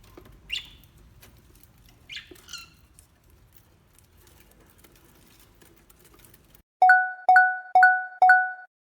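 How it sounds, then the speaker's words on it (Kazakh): A pet parrot gives four loud, evenly spaced whistled calls near the end, after faint scattered chirps and rustling earlier on. "Бұл тоты құс."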